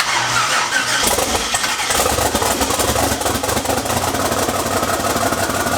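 An engine turns over on the starter during its first start attempt, a loud, rough, continuous churning roar held close for several seconds with no talking over it.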